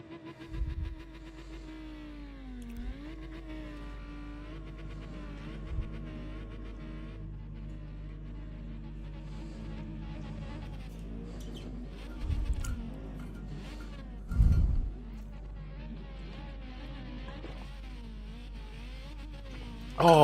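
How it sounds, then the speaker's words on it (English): A thin, buzzing racing car engine drone from the video game Gran Turismo holds steady with pitch sweeps as revs rise and fall, joined by occasional low thumps, fairly quiet throughout. "I'll turn it up now so you can hear the engine noise"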